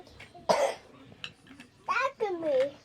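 A child gives a few short, sharp coughs near the microphone, then a young voice talks briefly in a quiet room.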